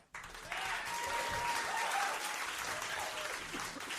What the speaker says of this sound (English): yes, feel free to applaud